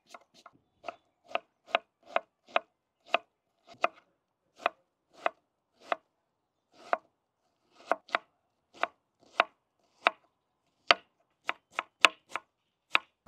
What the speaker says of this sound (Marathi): आपण आता कांदे कट करून घेऊ